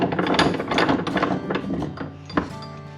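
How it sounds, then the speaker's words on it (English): A ratcheting screwdriver clicks in quick, uneven bursts of sharp pawl ticks close up, trailing into a few separate clicks and a soft knock near the end. "Use our new fancy screwdriver here. Ratcheting effect."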